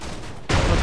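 A sudden loud boom from an explosion in Goat Simulator erupts midway after a low rumbling background, a burst of broadband noise that holds steady to the end.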